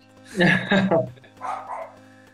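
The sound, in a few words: dog barking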